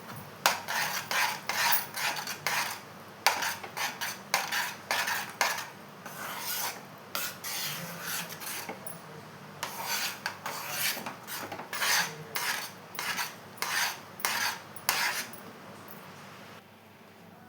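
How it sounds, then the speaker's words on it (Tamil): A spoon stirs rava kesari mixture in a pan, making repeated rasping scrape strokes in an uneven rhythm, close and moderately loud, with short pauses between bursts. "இப்போது இதை நல்லா கலந்து விட்டுக்கலாம்."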